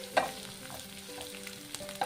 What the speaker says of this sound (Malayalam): കുറച്ച് വെളിച്ചെണ്ണ ഒഴിച്ചു കൊടുത്ത് കടുകിടാം